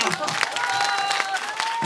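Applause from a festival audience at an outdoor trot concert in Hampyeong, a steady crowd clapping through the whole short stretch, with a faint tonal whistle or feedback line running underneath.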